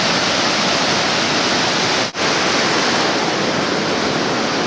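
Steady, loud roar of a waterfall on a river along a Smoky Mountains trail, a dense continuous wash of falling water near at hand with one momentary dropout midway.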